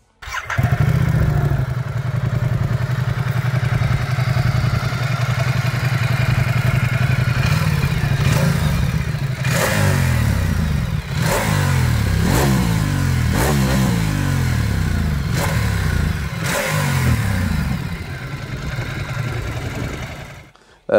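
A 2021 Ducati Diavel 1260 S motorcycle engine runs loud and close, rumbling steadily before several sharp revs climb and fall in quick succession.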